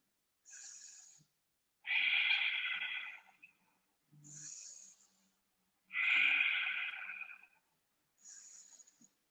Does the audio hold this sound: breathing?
yes